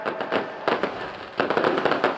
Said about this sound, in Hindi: ये देखिए, आतिशबाजी का बहुत ही खूबसूरत नज़ारा आप यहाँ पर देख रहे हैं।